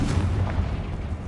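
A Confringo blasting spell explodes in a Harry Potter video game, a dull low boom rolling through steady rumbling noise without a sharp peak, with no voices over it.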